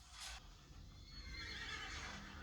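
Faint horse whinny from The Wheel of Time series, a short high neigh near the start with soft hoof and background sounds continuing at low level.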